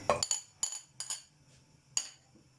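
Butter goes into a metal kadai (wok), and a spoon knocks against the pan in several sharp, close clinks: a quick cluster, a few spaced taps, then one last clink, with quiet between them.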